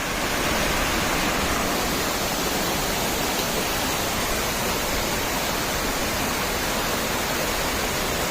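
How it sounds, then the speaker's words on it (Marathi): A waterfall near a temple, swollen after heavy rain, roars as a loud, constant wash of rushing water. The sound is dense and unbroken from start to finish, with no voices. "हे दुसरं एक साईडला इकडं धबधबा चालू आहे"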